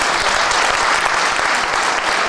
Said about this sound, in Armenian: Ծափահարեք ինքներդ մեզ